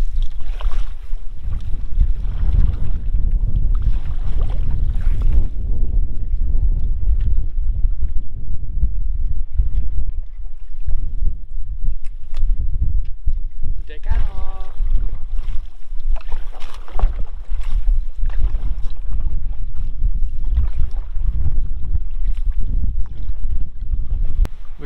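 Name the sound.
wind howling over lake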